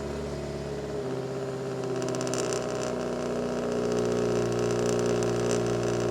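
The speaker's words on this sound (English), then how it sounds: "let's get a cold start for the boys on the Subaru" A Subaru engine cold-starts: a starter crank gives way to a steady, loud idle with a rising high-revving edge, running close and continuous with no talking.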